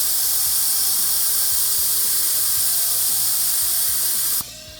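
A vacuum brake bleeder draws fluid from a KTM Brembo front brake master cylinder, a loud continuous hiss with rapid rhythmic pulsing and clicking underneath, close up, stopping abruptly near the end.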